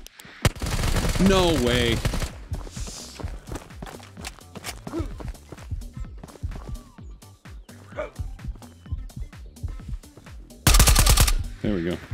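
Video game gunfire: rapid bursts of automatic shots in long strings, close and loud, with a harsher burst near the end, while someone talks over the shooting.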